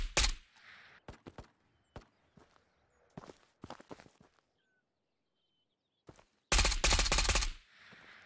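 Shots ring out in the video game Ghosts of Tabor: scattered single cracks and short bursts with quiet gaps, then one loud sustained burst of automatic fire near the end.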